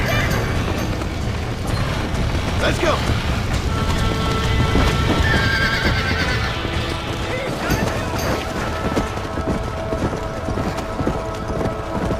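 Hooves clatter in a fast gallop throughout, with horse whinnies, shouting voices and bursts of commotion in a busy scene from the video game Red Dead Redemption.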